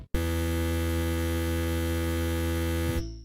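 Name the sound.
rolling bass sound on a Boss RC-505 loop station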